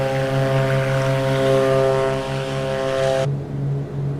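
A Beechcraft B60 Duke twin propeller aircraft in Microsoft Flight Simulator hums with a steady, loud engine drone and propeller buzz, then the sound abruptly thins to a lower rumble near the end.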